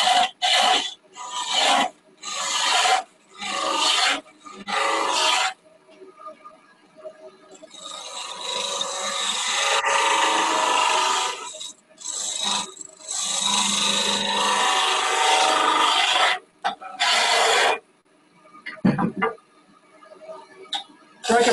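A gouge cuts a wood spindle turning on a lathe, giving harsh raspy scraping in bursts of varying length with short pauses, loud and close, alongside occasional tool knocks.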